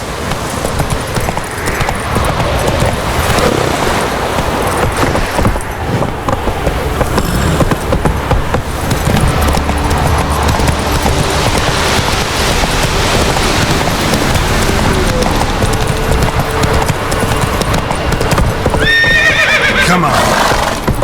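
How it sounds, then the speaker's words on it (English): A horse in the video game Witcher 3 whinnies and its hooves clip-clop amid rain and busy game sounds, loud and continuous, with a voice speaking over it. "Whoa there, Roach."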